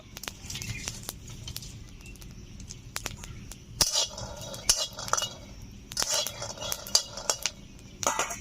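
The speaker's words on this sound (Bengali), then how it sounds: "বাদামগুলো চটমট করে ফুটতে শুরু করে দিয়েছে।" Peanuts fry in a pan, crackling and popping in small irregular clicks and brief clusters of snaps over a low steady hiss, fairly close and moderately quiet.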